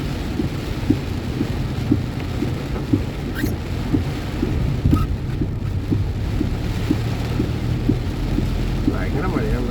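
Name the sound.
heavy rain falling during a drive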